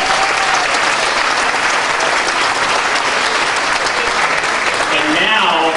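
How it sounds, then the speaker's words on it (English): A large audience at a Dancing With The Stars of Auburn 2010 gala claps loudly and continuously, a dense wash of applause with a few voices mixed in near the end. "Big round of applause for all of us."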